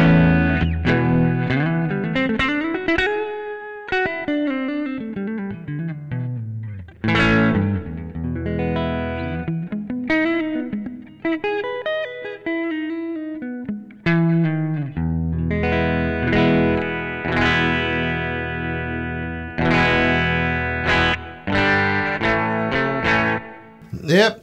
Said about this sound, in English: nice sort of electric guitar amp sort of sound